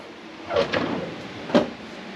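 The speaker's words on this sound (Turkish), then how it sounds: "İlk çekmece çok önemli." A drawer in a storage unit being pulled open, with two short sliding clunks about a second apart, fairly close and moderately loud in a quiet room.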